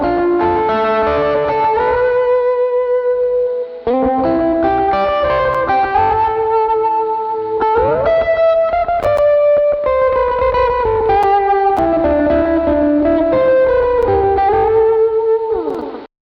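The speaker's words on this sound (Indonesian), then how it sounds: "ini signaturenya sama pakai gitar Ibanez, masuk ke efek Nux MG300, lalu ke laptop." An Ibanez lead guitar played through a Nux MG300 effects unit carries a distorted, echoing melody with sustained bending notes and chorus shimmer, loud and continuous for about sixteen seconds with a short break near four seconds.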